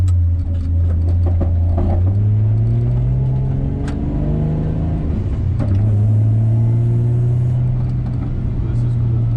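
A car drives around a drift track with steady engine drone and rising and falling revs as it shifts and accelerates, while someone talks over the engine noise from inside the car.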